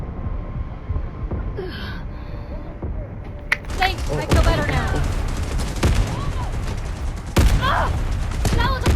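Bursts of rapid gunfire in the mobile shooter game Delta Force Mobile, dense sharp shots over a constant game hum, with a player talking over the action.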